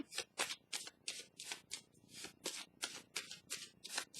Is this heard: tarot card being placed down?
yes